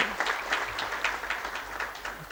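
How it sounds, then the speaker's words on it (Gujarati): Applause from a live audience at a Gujarati motivational talk, a steady dense patter of clapping that runs the whole moment, moderately loud with no talk over it. "એને જોરદાર તાળીથી વધારે"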